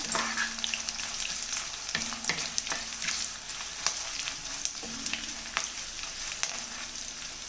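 Green and dried chilies fry in oil in a pan, giving a continuous close sizzle broken by the scrape and clink of stirring, with a faint steady hum underneath.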